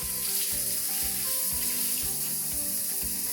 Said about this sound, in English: and then wash your hands.